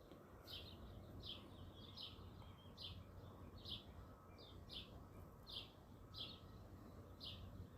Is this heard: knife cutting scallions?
no